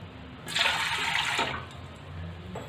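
Water poured into a large aluminium pot used as a steamer for farali dhokla, a steady broad splashing rush lasting about a second, then a quiet trickle and faint kitchen background.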